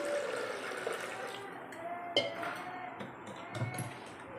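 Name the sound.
water poured into pressure cooker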